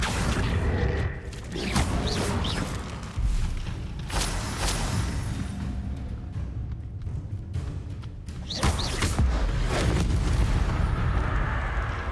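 Bombarda and Confringo spell blasts in Hogwarts Legacy go off in quick succession as loud, booming explosions and whooshing impacts, rumbling continuously through the stretch with a few sharper bursts.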